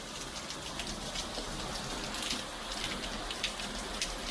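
Rain falling on a morning in Arizona before a motorcycle trip, a steady, even patter of raindrops hitting surfaces close by, with no voices over it.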